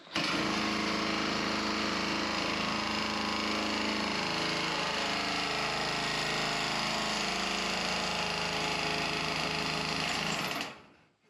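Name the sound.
nibbler tool cutting sheet metal roofing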